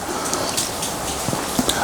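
Heavy rain falling during a storm, a dense steady hiss with scattered drop patters, close and continuous.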